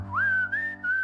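A person attempts a whistle, producing a thin, wavering rising tone that holds briefly, breaks off, then resumes, close and clear with no talking.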